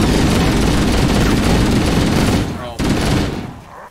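Dense, continuous gunfire in a first-person shooter game, loud, close and sustained, briefly dropping out then resuming before tapering off.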